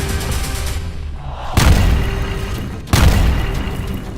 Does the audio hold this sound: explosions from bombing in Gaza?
yes